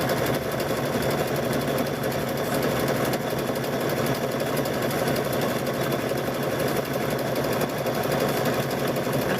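A sewing machine stitches through thick rope for a wall hanging, a steady, loud mechanical whir and rapid needle chatter running continuously and close up, with no voices over it.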